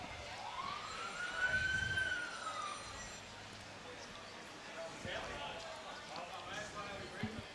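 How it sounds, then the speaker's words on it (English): Emergency vehicle siren at an outdoor lawn bowls championship final, a distant wailing siren rising and falling faintly in the background, while people talk and the outdoor ambience continues. "Sirens in the background."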